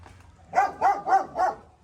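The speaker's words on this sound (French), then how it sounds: "Il y a les chiens qui font que gueuler là." Dogs barking loudly at a farm in Hai Duong, Vietnam, four evenly spaced, sharp barks in quick succession, close and clear with no talk.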